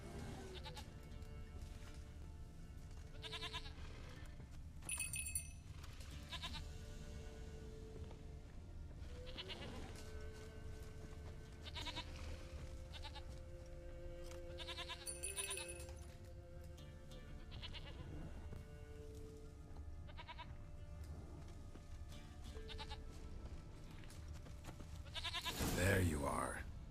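Goat bleating in The Witcher 3, repeated calls over a steady bed of game music and ambience, with someone talking across much of it.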